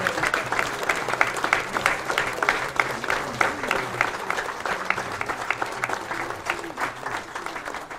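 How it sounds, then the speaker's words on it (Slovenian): A congregation at a thanksgiving Mass and monument unveiling breaks into sustained applause, a brisk patter of many hands with individual claps standing out, steady and fairly close throughout. "Tako lahko zaploskate."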